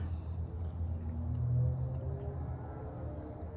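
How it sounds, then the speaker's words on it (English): A faint, continuous cricket trill fills a still night outdoors near a switched-off hot tub, sitting over a low ambient hum with no talking. "Can you hear the crickets?"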